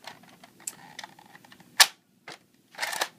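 A toy blaster dry fires with several sharp plastic clicks and snaps at uneven intervals. Two louder mechanical snaps stand out against near silence.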